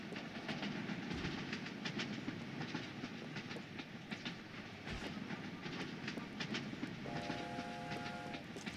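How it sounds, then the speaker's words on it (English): Train rolling on rails in the PC video game Mean Greens Plastic Warfare, with a steady rumbling clickety-clack, rhythmic wheel clicks and a brief whistle-like tone near the end. "We're on the train."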